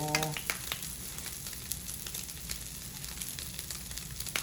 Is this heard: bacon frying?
yes